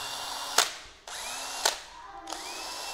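A used cordless drill switched to its fast speed mode revs up in short bursts, each start rising to a steady whine, with a few sharp clicks between runs, close by and with no talk.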